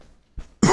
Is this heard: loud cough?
yes